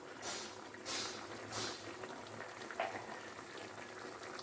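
Adobo chicken feet simmer in a pot, giving a soft, steady bubbling boil, faint and close, with a few brief splashy bursts and no talk.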